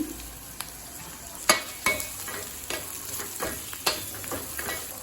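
Onions sautéing with tamarind in a pan for an onion garlic chutney: a soft steady sizzle broken by several sharp scrapes and stirring knocks, close by, with no talking.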